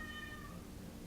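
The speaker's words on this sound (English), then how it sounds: "That's my cat in the background." A cat meows once in the background, faint and brief against a low, steady hum.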